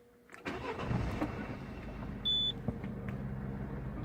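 A car engine cranks and catches about half a second in, then settles into a steady idle. A short electronic beep chimes partway through, and no one speaks.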